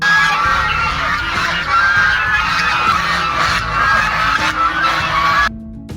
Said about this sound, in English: An Arctic fox swarmed a flock of geese